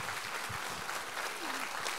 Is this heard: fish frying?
no